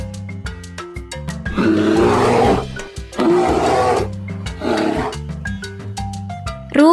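A hippopotamus in a children's animal-names lesson lets out three loud, rough, roaring bellows, each lasting about a second, set against light backing music with short plucked notes between the calls.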